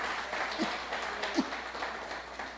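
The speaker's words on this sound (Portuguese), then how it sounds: "Dê uma salva de palmas ao Senhor." A church congregation applauds during a service, a soft, fairly distant wash of clapping with a few voices calling out over it.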